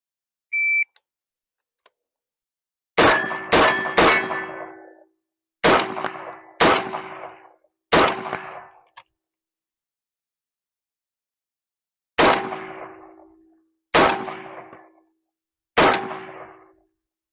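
Eight sharp gunshots at an outdoor shooting range, each followed by a ringing metallic clang from a steel target, come in an irregular sequence with silence between shots, preceded by a brief timer beep and no talking.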